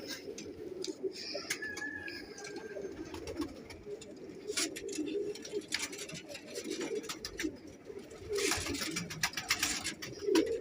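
Pigeons coo softly nearby in a roost, their low throaty calls repeating over a rustling, shuffling background with scattered ticking clicks and a burst of fluttering noise toward the end.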